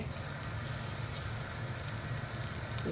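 Mustard, urad and chana dal, green and red chillies, ginger and curry leaves frying in oil until golden, for pearl millet paniyaram: a continuous, soft, even sizzle at close range with no voices.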